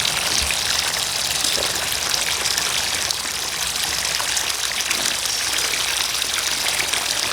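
Water pouring steadily into a 14 ft by 42 in Summer Waves above-ground pool, a continuous close gushing and splashing rush with no pauses.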